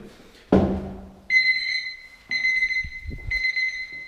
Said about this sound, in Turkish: Alarmımızı da kapatalım.